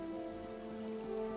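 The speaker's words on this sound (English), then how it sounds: "It is rainy outside." Steady rain falling in the West Weald of the video game Elder Scrolls Online, a soft, even patter with a low tonal hum beneath it, continuous and quiet.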